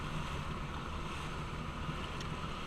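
A boat motors slowly through a no-wake zone, its steady low engine drone blending with continuous wind and water wash at an even level throughout.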